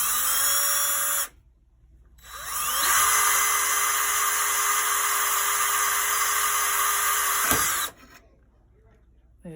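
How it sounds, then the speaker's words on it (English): A small high-speed rotary drill bores a pilot hole in the back plate of a New Haven Art Deco style clock, a loud whining run that stops, spins back up and holds before cutting off. "I like to use the smallest drill bit I can to sort of make a pilot hole."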